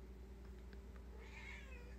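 A cat gives a single drawn-out, questioning meow with a rising and falling pitch, faint beneath a steady low hum of background noise, with no talking.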